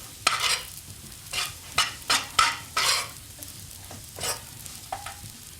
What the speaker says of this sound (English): I just want to cook this out a wee bit,